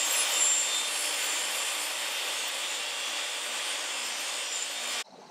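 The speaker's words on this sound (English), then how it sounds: "I'm now going to be cutting this strip, this length is the width of the board, into as many little ridges as I can." A wooden strip is sawn into small ridge pieces, giving a continuous bright rasping hiss that stops abruptly near the end, fairly close and alone without speech.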